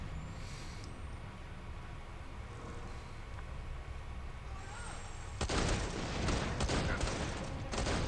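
A barrage of grenades exploding in the Borderlands 2 shooter on PlayStation Vita, the last few seconds filled with dense, rough overlapping blasts after a quieter stretch of game sounds.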